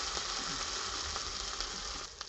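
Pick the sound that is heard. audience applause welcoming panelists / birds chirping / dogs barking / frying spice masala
frying spice masala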